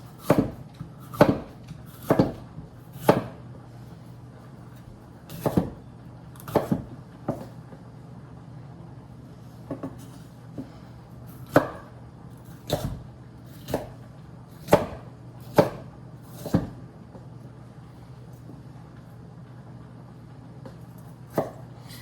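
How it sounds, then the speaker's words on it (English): A kitchen knife slices vegetables into thin strips for a veggie pasta, striking a cutting board in crisp, evenly spaced chops that come in short clusters with brief pauses, close and clear, no voices. "then you just cut it into little strips"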